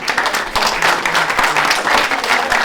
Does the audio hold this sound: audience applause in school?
yes